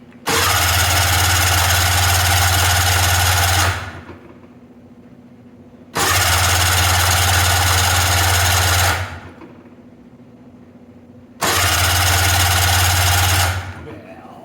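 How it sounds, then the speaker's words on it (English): A 1996 Polaris Classic Touring snowmobile engine turning over on its electric starter with a dry fuel system, in three loud, steady cranking bursts of about three to four seconds each, separated by short pauses. "We got electric start, so hopefully we can crank it over a little bit."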